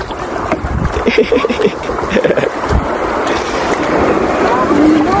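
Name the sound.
motorboat crossing a river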